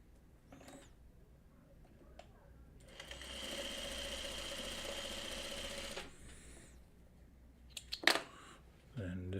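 A sewing machine stitches quilt block pieces in one steady whirring run of about three seconds, with soft handling noises and a sharp click before and after it in a quiet room.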